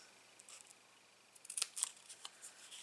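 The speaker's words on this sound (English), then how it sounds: "And I need to cut that as straight as possible." Scissors snip through paper scraps in a quiet room, a scattering of short crisp cuts that cluster toward the end, close and fairly faint.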